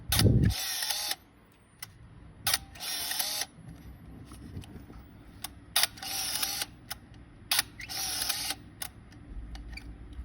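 A Fuji Tele Cardia 160 compact film camera gives about five close mechanical bursts of shutter clicks and motor whirring, separated by quiet gaps, with a soft hum of faint flash charging in between.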